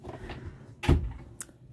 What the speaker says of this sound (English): Do you want to open that secret door?